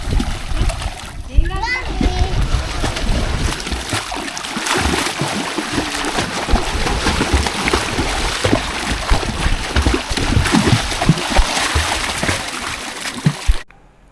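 Children splash and play in water at a farm-stay pool near Shamirpet. The sloshing and splashing are continuous and close, and children's voices and chatter run throughout.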